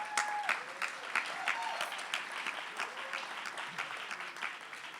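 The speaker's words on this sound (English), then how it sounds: "another round of applause for the team" Steady audience applause for the team at a hospital awards evening, a dense wash of many hands clapping at moderate volume throughout, with faint voices and cheers mixed in.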